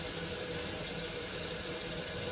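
A kitchen tap runs steadily, producing a continuous, close rush of water pouring into a sink with no break and no talking.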